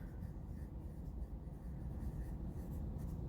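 Pen or marker strokes write a single word during a math lesson, a faint, close scratching that runs steadily with small rhythmic pulses and no talking.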